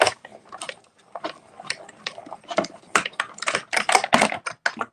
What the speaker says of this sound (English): we're going to run this through our machine